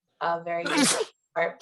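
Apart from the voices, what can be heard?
sneeze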